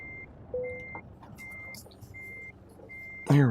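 Reversing beeps from a truck in Euro Truck Simulator, a steady series of evenly spaced electronic tones repeating over engine hum, ending in a louder burst of mechanical noise.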